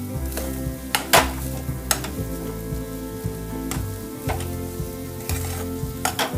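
Potato masala for a masala sandwich, seasoned with turmeric and salt, is stirred and mixed in a pan, with a steady low sizzle and several sharp scrapes and clinks of the spoon against the pan, no talking.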